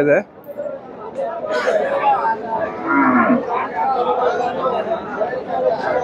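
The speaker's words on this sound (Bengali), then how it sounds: "গাভী বাচ্চা দেখতেছি" At a busy cattle market, a cow lows loudly and close by, its deep moo carrying over the steady chatter and babble of the crowd.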